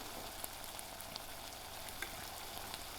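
Lamb mince frying in a pan, a faint, steady crackling sizzle with small pops, continuous and without voices.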